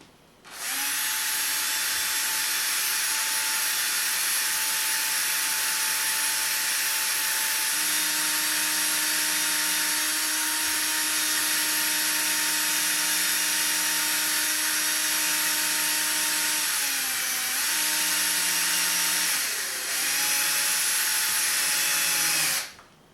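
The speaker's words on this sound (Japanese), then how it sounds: "キャップにも穴を3個開けておきます。" A power drill bores three holes into a plastic pipe cap for a homemade overflow aquarium, a steady loud motor whine sustained for a long stretch with brief pitch dips as it bites in, then stopping.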